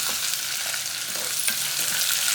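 Ginger garlic paste and dried red chillies frying in hot oil, a loud continuous crackling sizzle close up, with no voices over it.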